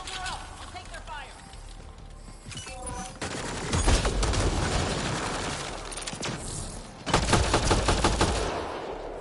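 Gunfire rattles through a Mass Effect firefight, bursts of shots building into dense volleys with loud peaks near the middle and end, while voices talk over the shooting.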